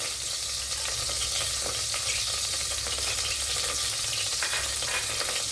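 Whole spices, including fennel seeds, cloves and a piece of star anise, fry in hot oil for a vegetable biryani. The steady, even sizzle continues close and unbroken throughout, with no voices.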